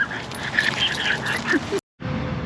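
A dog at a campground, kept out of a dog park, whimpers and gives short high yips. The whines rise and fall over a noisy outdoor background, then stop suddenly, followed by a brief silence.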